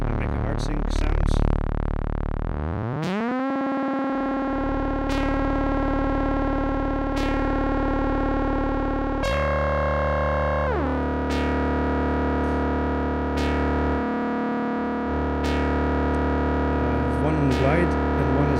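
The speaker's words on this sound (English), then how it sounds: "So first I make a hard sync sounds." Hard sync oscillator patch on a Geometric Anomaly synthesizer: a loud buzzy, harmonic-rich drone that sweeps upward in pitch, holds steady, then drops and shifts timbre, with occasional brief voices underneath.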